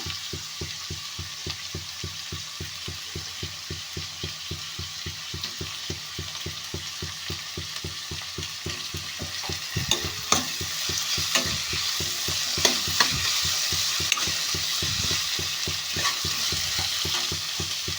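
Beetroot and tomato fry in a pan with a constant close sizzle, while a spoon stirs them in a steady scraping rhythm that grows louder and more uneven toward the end.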